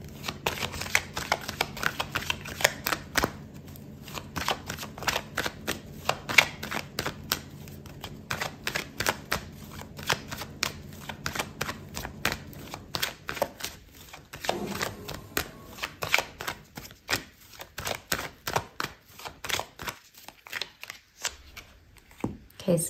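Tarot cards are shuffled in quick, crisp riffles and snaps. The close, dense clatter repeats in bursts with brief pauses, and no voice is heard.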